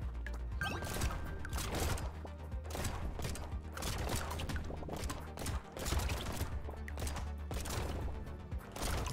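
Projectile weapons such as pistols fire nonstop in the video game Brotato, a dense rapid barrage of small gunshot pops and impact crunches layered over game sounds, steady and busy throughout with no talking.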